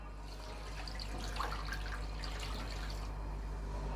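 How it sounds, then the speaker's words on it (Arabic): Water pours steadily from a cup into a pot of washed rice for cooking rice pudding, a soft continuous splashing and trickling that stays close and moderately loud with no talking. "وهنزل عليهم بثلاث كوبايات ميه،"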